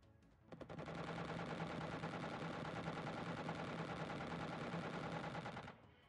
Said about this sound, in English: the cannon should be laying into the UFO